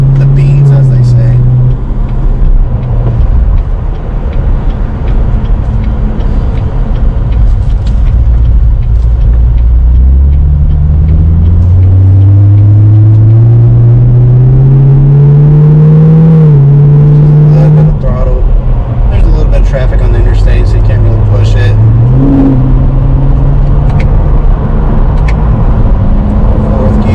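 C7 Corvette V8 on Cup 2 tires, a deep loud engine rumble climbing through rising revs as it accelerates, with upshifts dropping the pitch between pulls, heard from inside the car while someone talks over it.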